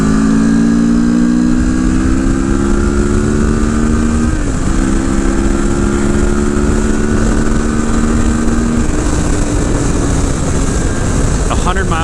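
A CFMOTO touring motorcycle with a front wind fairing accelerates hard down a straight, its engine note climbing steadily through the gears with a brief shift dip, loud and close beneath heavy wind rush.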